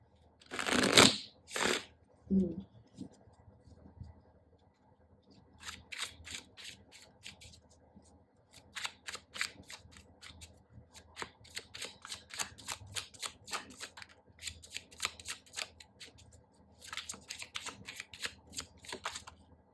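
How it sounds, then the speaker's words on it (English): A few loud riffles, then a long run of quick shuffles of a small tarot deck, crisp snapping bursts repeating close up, no voices. "So let's just shuffle these tiny tarot deck here."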